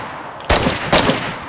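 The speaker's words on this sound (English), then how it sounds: "I'm going to shoot." Gunshots ring out in a multiplayer shooter video game: two loud, close bursts roughly half a second apart, each trailing into a rattling echo, with no talking over them.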